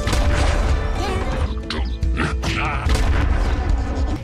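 Loud, dense bursts of explosions from goblins attacking in a VR castle defense game, with booming crashes and smashes packed tightly over game music and effects, continuous and close throughout.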